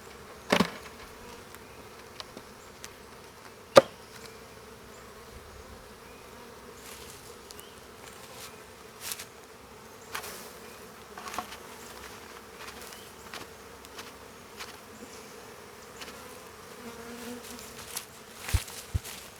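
Bees swarm around a bee trap outdoors, giving a soft, steady insect buzz throughout with occasional louder passes close by and a few sharp knocks.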